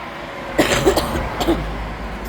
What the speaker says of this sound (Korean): 죄송합니다. 기침 한번 하고 가자요.